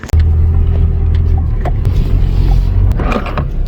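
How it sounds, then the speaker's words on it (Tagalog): Car climbing a sand dune in New Zealand, its engine giving a loud, steady low rumble with scraping and rattling noises near the end. "Try natin i-drive yung kotse natin kung kakayanin niyang panikin yung bundok ng buhangin na yan"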